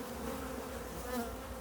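A steady, dense hum of honey bees buzzing around production hives out on heather moorland, a continuous close drone with no pauses and no voices.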